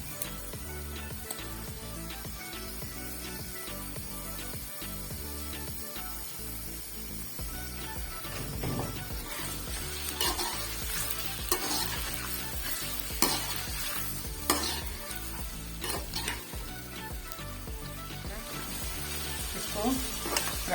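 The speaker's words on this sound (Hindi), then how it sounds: "इसमें मैं डालूंगी चिकन, इसके साथ ही चिकन को फ्राई करूंगी।" Chicken, half a kilo, frying in a pan for a restaurant-style chicken curry, with a steady sizzle and repeated scraping, stirring strokes throughout; the hiss swells a little midway and a voice speaks faintly at times underneath.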